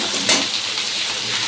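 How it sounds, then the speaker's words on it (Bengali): Potatoes fry with whole cumin seeds and dried red chilli in hot oil, a steady close sizzle with a brief stirring scrape, no voices. "এখানে আলু গোটা জিরে শুকনো লঙ্কা দিয়ে ভাজ করেছি"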